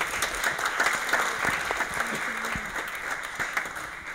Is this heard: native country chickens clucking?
no